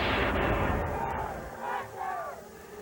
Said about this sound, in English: This crowd is nearly as loud as the monsters themselves. Half are screaming for Carolina Crusher and half for the Gravedigger.